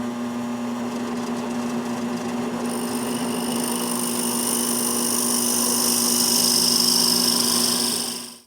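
A steady motor whine from a power drill boring a little over 4 inches into wood, close and continuous, rising in pitch midway before cutting off at the end.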